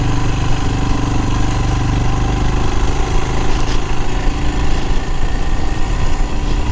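A Royal Enfield Himalayan's low-powered engine chugs up a steep hill climb in first gear. It gives a steady, loud, close drone throughout with no speech.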